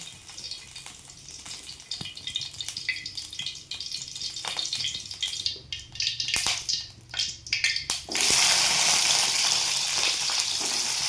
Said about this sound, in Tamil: ஆயில் இந்த மாதிரி தெரிக்கும், டக்குன்னு சரி ஆகாது.